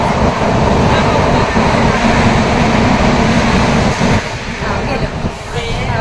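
Rumbling ride aboard the Diva–Sawantwadi passenger train, a loud, continuous roar of wheels and carriage noise with some clattering, ebbing slightly near the end.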